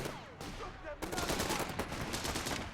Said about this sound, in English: Fire a rifle grenade